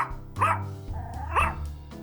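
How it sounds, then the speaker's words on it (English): A dog named Mona in a visual novel game gives two close, clear barks about a second apart. "And Mona, my trusty crime-finding dog."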